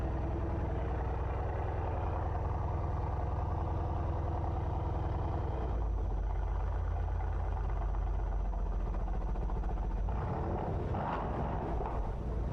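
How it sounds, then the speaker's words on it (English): A Mercedes-AMG C63 W205 with its 4-liter M177 V8 sits at idle, giving a deep, steady, rumbling burble that holds evenly throughout. The engine is close, with a slight shift in tone partway through. "Just listen to the idle of this car."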